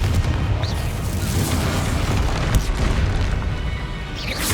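Booming spell explosions from Bombarda and Confringo in Hogwarts Legacy, a continuous loud rumbling roar with overlapping blasts and no talk.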